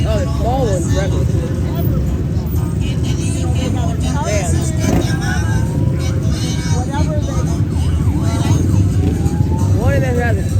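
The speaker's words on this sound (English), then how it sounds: "the small one's revving" A small ATV's engine revs amid the steady rumble of other ATVs moving past in a street parade, loud and close, with crowd voices mixed in.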